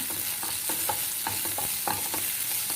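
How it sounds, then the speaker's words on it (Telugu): Tomato pieces frying with ginger-garlic paste in a pan for Rayalaseema-style puffed-rice uggani, a steady close sizzle broken by repeated stirring scrapes and clinks, with no talking. "మనం టమాటా ముక్కలు కూడా యాడ్ చేసుకుందాం."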